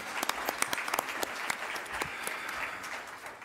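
An audience claps at a plenary session of an HIV prevention research conference, a fairly distant, steady patter of many hands lasting the whole few seconds without any voices.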